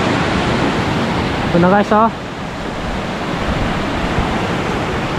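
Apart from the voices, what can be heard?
strong typhoon wind by the water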